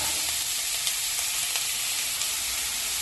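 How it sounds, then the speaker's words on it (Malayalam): Chopped capsicum, halved tomato and paneer cubes sizzle in a hot pan as they are stirred for a burrito bowl, a steady bright hiss with faint scattered pops throughout. "ഇതെല്ലാം കൂടി നല്ലോണം ഇളക്കി ചൂടാക്കാം."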